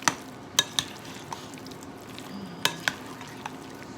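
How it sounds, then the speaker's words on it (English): A spoon stirring a pesto chicken and potato mixture in a bowl, quiet wet squishing broken by several sharp clinks of utensil against the dish, close and without talk. "I'm going to stir this up."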